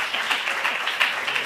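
Conference audience at a national congress on Andalusia and the 1812 Constitution breaks into applause, dense hand clapping with small surges, close and fairly loud, brief and without speech.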